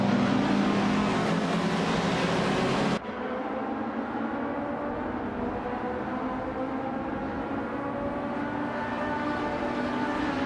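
Engines of 1974-era Group 2 touring cars, including a BMW, roar loudly and continuously as a race gets underway at Bremgarten, a dense, sustained drone that shifts abruptly in tone partway through.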